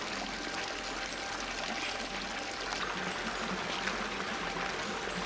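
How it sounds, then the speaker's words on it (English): A small, fast-running creek flows inside an eco dome, a steady, close, full rush and trickle of water that carries on unbroken throughout, with no voices. "Now here we are at the creek."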